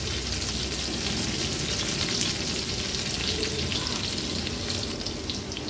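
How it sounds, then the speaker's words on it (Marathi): Green chilli and cumin seeds fry in hot oil for an Ashadhi Ekadashi fasting meal, giving a loud, steady sizzle with an even crackle throughout and no voices. "आता मिरची आणि जिरं आहे ना, तेलावर छान रंग चेंज होईपर्यंत आपल्याला परतून घ्यायचंय"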